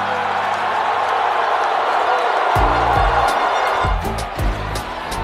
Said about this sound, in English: That sends this crowd into a frenzy